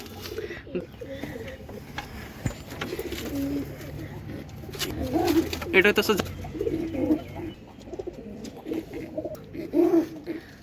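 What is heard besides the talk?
pigeons cooing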